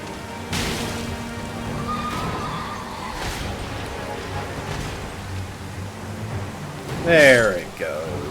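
A horse in the video game Elden Ring lets out a brief, wavering neigh near the end. Before it comes a long stretch of steady hiss and a person talking.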